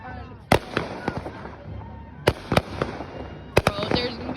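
Fireworks going off outdoors, several sharp loud cracks and pops in uneven clusters amid crackling, with people talking in the background.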